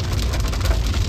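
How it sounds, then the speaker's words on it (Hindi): Heavy rain pours steadily and loudly, a dense, continuous roar of drops hammering a surface close by, with no voices. "देखो ये बारिश कितनी तेज हो रही है"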